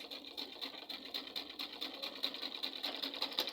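A sewing machine runs steadily while stitching a curve in Ankara print fabric, a soft rhythmic patter of needle strokes at a moderate, even pace, faint and alone without voices.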